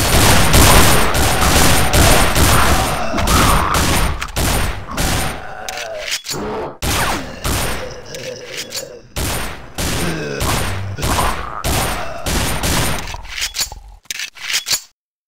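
Gunfire in the zombie survival game Survivalist: loud, near bursts of rapid shots crackle almost continuously, broken by brief pauses before cutting off at the end.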